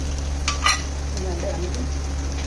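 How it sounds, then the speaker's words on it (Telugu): Oil sizzles in a pan over a steady low hum, with a brief sharp scrape and clink of utensil against metal early on and faint quiet voices in the background. "ప్యాన్లో ఆయిల్ వేసుకోవాలన్నమాట."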